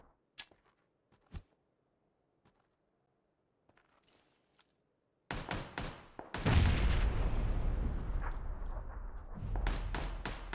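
Gunfire and grenade blasts from the battle game PUBG: near-silence with a couple of faint thuds, then a sudden loud burst of shots at about five seconds leading into a sustained, roaring explosion and rumble lasting to the end.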